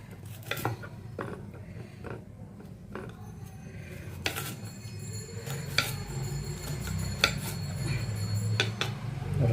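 A knife chops karela (bitter gourd) into small pieces on a board at home, irregular sharp taps and clicks at close range over a low background rumble.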